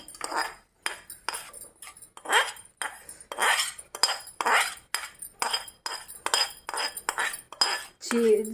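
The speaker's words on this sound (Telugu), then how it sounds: "పోపు మిక్స్ని రైస్లో యాడ్ చేస్తున్నానండి." A spoon mixes a cumin tempering into rice in a metal vessel, producing steady, rhythmic scraping strokes with light clinks, close up and moderately loud.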